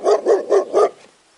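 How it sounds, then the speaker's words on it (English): A dog barks four times in a quick, steady rhythm, close and loud, with the last bark trailing into a short fade; no talking. "D for dog"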